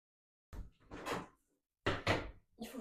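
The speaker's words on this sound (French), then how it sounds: "Ma porte, elle bouge toute seule." A door shifting on its own indoors, giving a few soft knocking and creaking bumps in separate bursts with quiet gaps between them, close by and moderately loud, with no voices.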